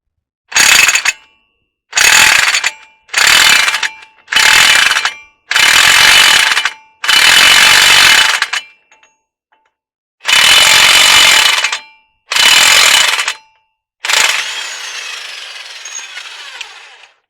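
A 36mm socket is run on a GMC Yukon Denali during suspension work, producing about nine loud, harsh mechanical rattling bursts separated by short pauses, the last one trailing off more quietly.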